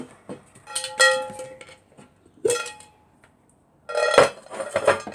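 Turbo chewing gums drop into a dish in a few separate bursts, each a cluster of hard clinks and rattles, close by, with near silence between the drops.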